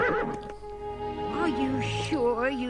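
A horse gives a loud, close, rising and falling whinny lasting about a second, in a dramatized biblical story setting, with voices nearby.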